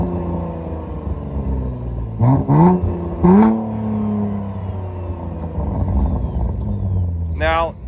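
A Cadillac ATS-V fitted with a ZZP exhaust, in sport or track mode, idles with a deep rumble, then snaps through two quick rising revs in a row, followed by a final short blip, loud and close.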